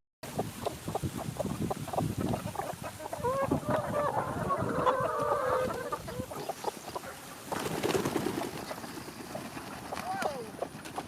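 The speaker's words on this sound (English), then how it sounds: "these chickens have kicked it into high gear" Chickens clucking while waiting for feed at a large flock, a busy, continuous chorus of clucks and squawks with footsteps and a person speaking over it.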